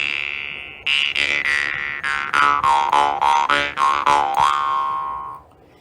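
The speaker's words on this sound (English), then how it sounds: "This, little lady, is what you call a jaw harp." Jaw harp twanging in a steady rhythm of repeated plucks, each note buzzing with bright overtones while the pitch slides up and down, ending on a held tone that fades; no voices.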